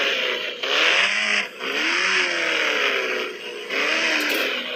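A vehicle engine in the Indian Bike driving game revs steadily, its pitch rising and falling as it accelerates and eases off, with a few brief dips in loudness, close and continuous, with no talk.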